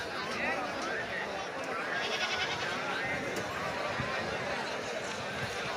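Sheep and goats bleat amid the steady crowd noise of a Friday goat market in Banaganapalle, Nandyal district, with people talking throughout and animal calls scattered under the din.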